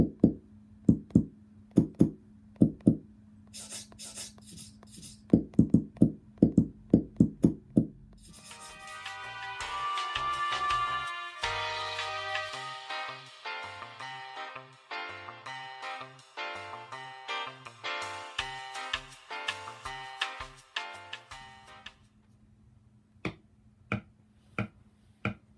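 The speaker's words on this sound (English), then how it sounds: "I ended up trimming out and keeping 6 sounds from the tiny foam donut recording." A tiny foam donut handled as foley, with sharp isolated taps and snaps in rhythmic clusters, then a long rubbing, squeaking, scraping stretch, then sparse taps again. It is close and dry with no voices.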